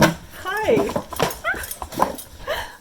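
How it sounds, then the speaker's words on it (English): A dog whimpers and yips in short, high whines close by, mixed with snuffling and household noise. "And in come my dogs, as they do."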